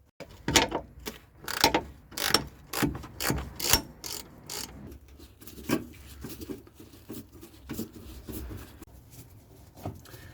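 A hand ratchet undoes Torx bolts on a car during brake and wheel-arch work, giving close, sharp clicking bursts that come quickly and loudly at first, then turn slower and softer with a low mechanical rumble beneath and no talking.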